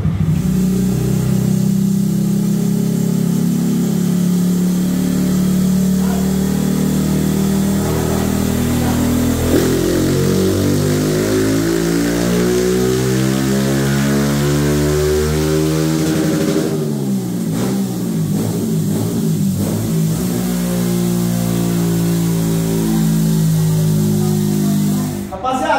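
A Honda Fan 160 motorcycle engine revs up and down, rising and falling in pitch under a steady loud drone, with a sharp climb near the end.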